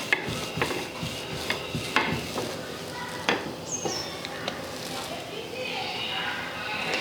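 Puri dough for aloo puri is rolled out with a rolling pin on a kitchen surface, making faint uneven taps, knocks and soft scraping, with a brief metallic clink, as someone speaks over the work.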